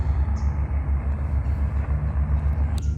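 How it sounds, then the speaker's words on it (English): Airboat engine running steadily in the background, a continuous low droning rumble that stays constant throughout with no talk over it. "And now a airboat has started up."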